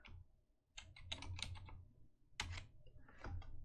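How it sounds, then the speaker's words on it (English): Typing on a computer keyboard while building a level in Unity, a few quick bursts of clustered keystrokes with brief pauses between them, close and clear with no talking. "So I'm going to type stairs"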